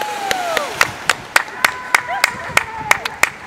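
Sharp, evenly spaced claps ring out close by at a brisk steady rhythm at a cliff-jumping spot outdoors, with excited voices calling and chattering over them.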